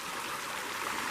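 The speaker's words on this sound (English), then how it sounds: "this has all collapsed itself and water is just pouring out" Water pours steadily out of a collapsed mine portal at an abandoned mining camp, a continuous broadband rush and gurgle heard close and fairly loud, with no voices over it.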